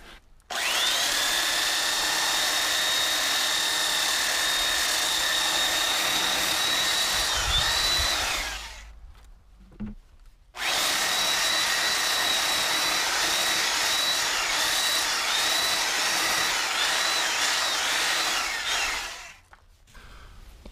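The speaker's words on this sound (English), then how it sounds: "with the belt sander, going up and down and around until it looks pretty" A belt sander whines loudly and steadily against a wooden post in two long passes, separated by a short pause, close by.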